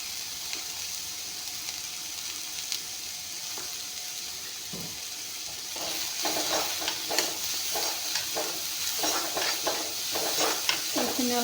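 Ingredients for an egg chop frying and being stirred in a pan, with steady sizzling that grows busier and louder partway through, broken by scraping stir strokes.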